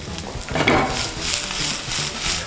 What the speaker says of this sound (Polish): Wlewam olej z wytłoczyn oliwnych na patelnię, dodaję szalotkę i lekko zgnieciony czosnek.